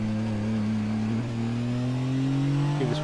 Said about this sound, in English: Give this poor bloody engine a break.